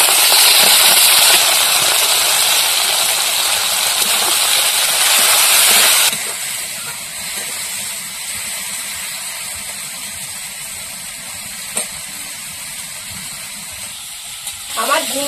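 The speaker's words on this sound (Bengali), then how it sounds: "চিংড়ি মাছটা ভেজে নেবো।" Prawns frying in hot oil: a loud, close, hissing sizzle for about six seconds that then drops to a quieter, steady crackle with a couple of faint knocks near the end.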